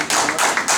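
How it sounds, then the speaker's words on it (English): A short burst of applause from a gathered crowd at a real estate office event, dense hand clapping that swells steadily across the moment with no voices over it. "Give him a round of applause for that."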